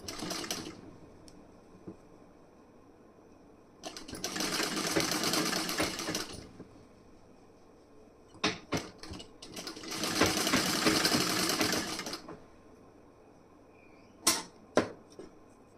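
Sewing machine stitching the front part of a wedding blouse, running in two steady bursts of about two seconds each, with scattered clicks and handling knocks between them and no talking.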